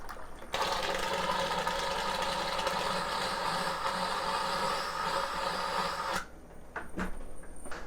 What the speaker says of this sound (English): I'm really just going to pump the whole thing through here, a couple gallons worth, and just going to pump it all out of the keg here.